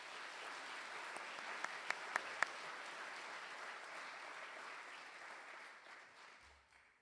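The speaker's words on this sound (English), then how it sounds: "let's give them a round of applause, please." A steady wash of crowd applause at a distance at a Hutchinson Community College all-employee meeting, with a few sharper individual claps standing out, tapering off toward the end.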